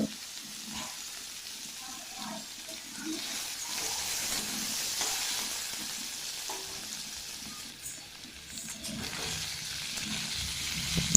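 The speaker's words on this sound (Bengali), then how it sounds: "তো আমি কি পনিরটাকে ভেজে নেব এখন" Continuous crackling sizzle of paneer frying in oil in a kadai, steady and close, with occasional soft stirring sounds.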